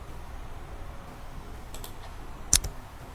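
A single sharp press of the Enter key on a computer keyboard, one crisp click standing out against a quiet room hum.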